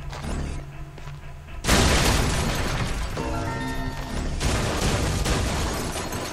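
Explosions blasting objects open in the video game Shadows of the Damned: a sudden loud burst that sweeps into a sustained crackling roar of debris and effects, with smaller bursts following, no talking.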